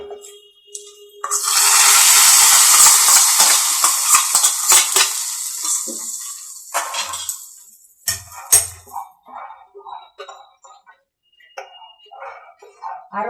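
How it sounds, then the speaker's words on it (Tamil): Cashews, almonds and raisins fried in hot ghee are tipped into sweet potato payasam with a loud, hissing sizzle that swells within seconds and holds for about five seconds. It fades into soft clinks and scattered stirring sounds. "இப்போ நம்ம அப்படியே எடுத்து பாயாசத்தில் கொட்டிடுவோம்"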